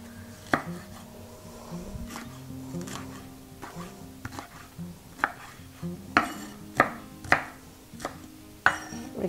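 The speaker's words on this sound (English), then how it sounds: "We are going to take a green bell pepper. We're going to chop it up." A knife chops a green bell pepper into large chunks on a cutting board in a home kitchen. Crisp, spaced knocks against the board grow louder and sharper toward the end, over a quiet background with no talk.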